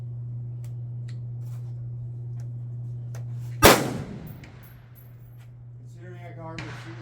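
A single sharp rifle shot at an outdoor shooting range cracks out midway, rising sharply over a constant low hum and decaying quickly, followed by a few faint clicks and rustles.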